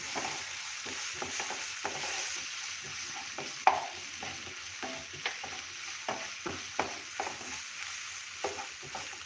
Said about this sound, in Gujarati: હવે આપણે નાખીશું આદુ મરચાંની પેસ્ટ એને પણ આપણે સોતળી લેશું